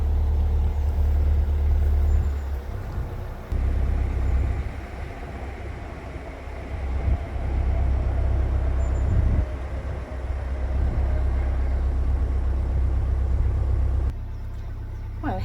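Camper van driving along country roads, a loud, steady low engine and road drone from inside that dips and swells with gear and speed changes, then drops to a quieter rumble near the end.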